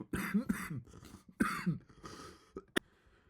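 A series of rough coughs and throat clearing, close and loud, in uneven bursts with one sharp final cough.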